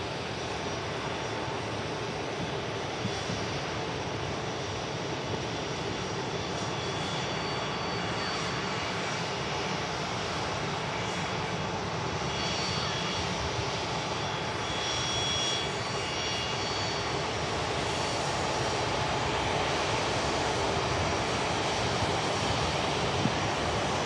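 Aircraft engine noise from a plane just arrived from Amsterdam at Manchester Airport in the rain, a loud, steady roar held for the whole stretch with no talk over it.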